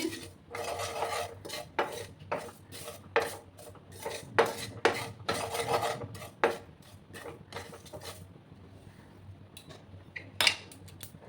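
Spices for a rohu fish curry are dry-roasted in a pan, with a rapid series of sharp metallic scrapes and taps of a utensil stirring against the pan, close and clear, with a faint sizzle underneath.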